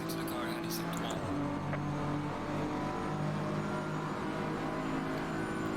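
GT race car engine in the sim racing game Assetto Corsa Competizione at the Nürburgring, a steady droning tone with layered harmonics held at high revs, loud and continuous throughout.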